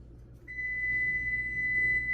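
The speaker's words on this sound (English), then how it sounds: "Well, there goes my timer." A kitchen timer goes off in a home kitchen while a peach fluff dessert is being made: one steady, continuous high electronic tone starts abruptly and holds without a break, fairly clear over a low room hum.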